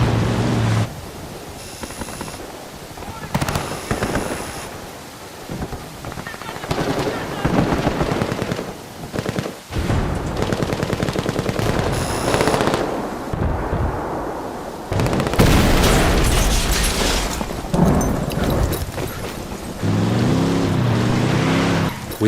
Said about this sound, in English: This camp is now erupting into a full gunfight between the rebels and the Santa Blanca. And to provide further disruption, we blow that C4 we placed earlier.